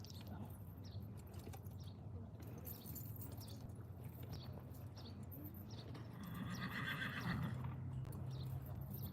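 A horse neighs and whinnies at a horse sale while hooves clip-clop steadily, the whinny rising louder near the end over a busy, moderately loud background.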